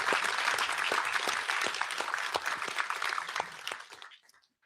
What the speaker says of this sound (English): All right, give them a round of applause.